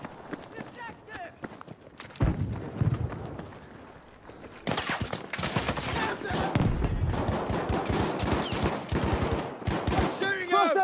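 Battlefield 5 gunfire on the Rotterdam map, rapid machine-gun bursts and scattered shots with running footsteps, loud and close, mixed with voices calling out.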